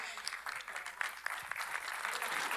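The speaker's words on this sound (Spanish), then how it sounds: "Dale un fuerte aplauso al Señor" A church congregation at a Spanish-language women's service claps in sustained, dense applause, with a few sharper claps standing out from the steady patter.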